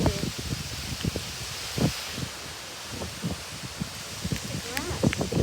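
Strong derecho wind gusts sweep through grass with a continuous rushing rustle, buffeting the microphone in bursts and building toward the end.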